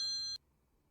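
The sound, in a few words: phone call ringing in video game Night Knock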